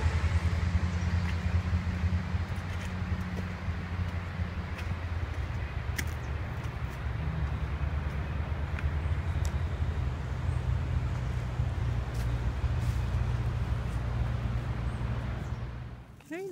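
Rushing stream water from below an outdoor trail forms a broad, steady hiss, with the low hum of distant traffic beneath it and a few faint knocks, the sound cutting off abruptly at the end.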